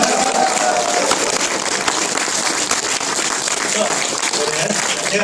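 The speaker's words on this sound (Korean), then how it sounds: "박수로 맞이하겠습니다" A crowd applauding steadily, dense clapping filling the room without pause, with voices mixed in beneath it.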